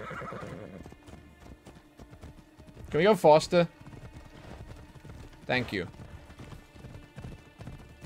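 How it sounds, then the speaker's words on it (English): A horse's hooves clip-clop at a quick gallop in Assassin's Creed Odyssey, with a loud whinny midway and another shorter neigh later, while a person talks over the hoofbeats. "Did you just steal that horse?"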